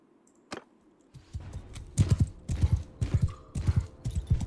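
Rhythmic horse hoofbeats clop along steadily in Mount & Blade 2: Bannerlord, moderately loud, after a single sharp knock near the start.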